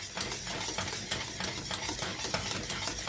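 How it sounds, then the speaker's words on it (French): A whisk beats butter into thick pastry cream in a pan, a fast steady scraping and slapping rhythm heard close and alone. "Et vous continuez de mélanger parce qu'il y a quand même des œufs, il ne faudrait pas que ça cuise."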